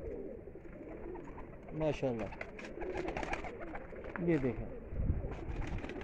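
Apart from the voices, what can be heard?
pigeons cooing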